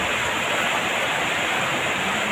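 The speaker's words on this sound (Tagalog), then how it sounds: "Biglang buhos ang ulan." Heavy rain roars down in a constant dense hiss, loud and close, with no pauses or voices.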